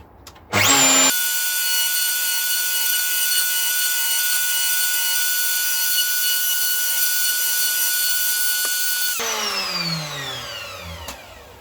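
A power planer shaving wood during a 1958 Flying V guitar build, a loud steady whine starting abruptly, holding for about eight seconds, then winding down as the blades spin to a stop.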